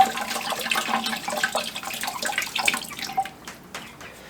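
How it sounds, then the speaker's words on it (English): Water pours and splashes steadily into a bucket, a continuous sloshing rush that tapers off near the end, with no talking. "I am putting the water into the yuck bucket"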